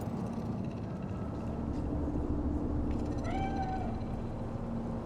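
A cat in Cyberpunk 2077's Night City gives a single drawn-out meow about midway through, clear over a steady low urban hum and background noise, with no talking.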